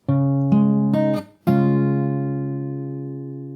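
Fingerstyle acoustic guitar plucks a short phrase from the Animal Crossing New Horizons theme, four quick chord attacks followed by one held chord ringing out and fading, close and clean without any talking.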